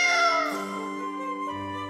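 In the video game Tales of Vesperia a cat lets out a drawn-out, wavering meow lasting about two seconds, loud and close, with a low hum joining near the end and no voices.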